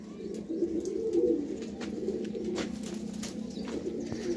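Young flying pigeons on a rooftop coo in low, soft, repeated murmurs, with occasional faint chirps and clicks over a quiet outdoor background.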